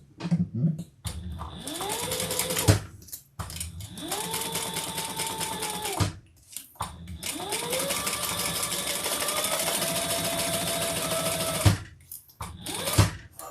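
Sewing machine stitching a side seam on a fabric hobo bag, running in three long bursts separated by short pauses, steady whirring hum close by with rising pitch as each run starts.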